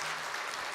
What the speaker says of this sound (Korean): 우리가 서로가 서로의 격려의 박수 해주시기 바랍니다